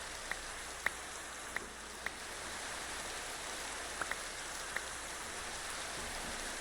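Rain falls steadily in a video game world, a constant hiss of drops with a scattering of sharper individual drip ticks at irregular intervals, with no voices.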